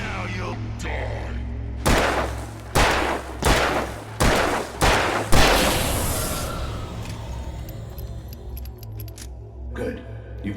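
Gunfire in the video game Alan Wake: half a dozen sharp, loud shots crack at uneven intervals, then ring out into a decaying tail and low ambient hum, followed by a few faint clicks.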